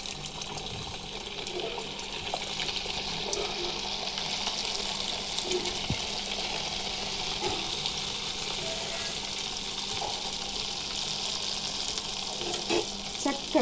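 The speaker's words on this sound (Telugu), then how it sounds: "ఇలా ఒత్తుకున్న గారెలను మనం నూనెలో ఇలా వేసుకోవాలి." Corn garelu fritters fry in hot oil with a steady bubbling sizzle, moderately loud and continuous, with occasional clinks and faint background noise.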